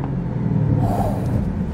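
A BMW M8 in tour mode gives off a steady, loud low exhaust rumble on the downshifts, and the drone holds with no break for the whole stretch.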